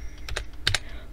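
Someone types a Minecraft server address on a computer keyboard, several quick, crisp key clicks in two short bursts with a pause between, fairly close and clear with no talk.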